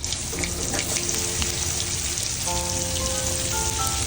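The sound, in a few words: stuffed okra with garlic chutney frying in pan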